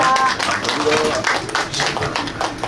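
An audience at an intercessory prayer gathering bursts into a short round of thankful applause, moderately loud and steady, with a voice speaking over the clapping.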